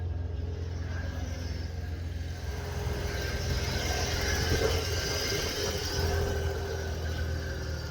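A 1991 Ford F-150 Custom engine runs steadily nearby, a continuous low rumble that swells slightly midway, with no talking.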